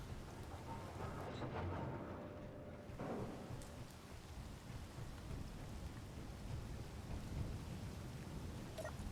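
A thunderstorm in the video game Space Engineers brings steady rain hiss with a rumbling thunder roll early on, continuous and fairly faint, with no talking.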